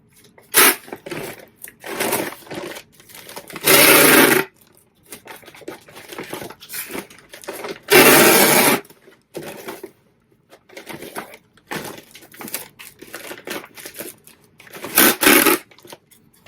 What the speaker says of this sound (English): Tape noise.